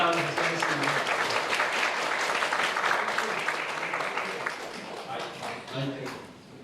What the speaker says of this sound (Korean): 감사와 격려의 박수 한번 해주시면 좋겠습니다